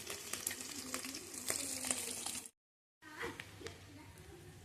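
Five eggs coated in turmeric and salt fry in hot oil for an egg curry, crackling and sizzling continuously and fairly close, with a brief full silence partway through before the frying resumes.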